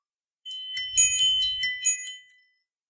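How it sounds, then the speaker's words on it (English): Small bell tinkling in a quick run of bright, high metallic chimes, close and clear, ending with a couple of lighter single dings; a faint low rumble sits beneath. "flagged by the tinkle of this little bell"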